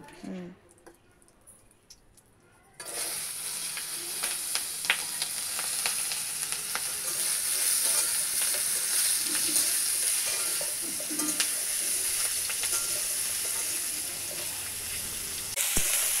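Potatoes and vegetable stems fry in a pan with a steady, close hiss and sizzle that starts abruptly and runs on, with occasional stirring scrapes.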